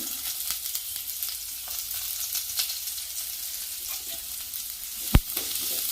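Onions and curry leaves sautéing in a pan, a continuous bright sizzle with faint stirring scrapes and one sharp knock of the utensil near the end, no voices.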